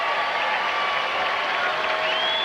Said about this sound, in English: the crowd's certainly trying to inspire Guy Forget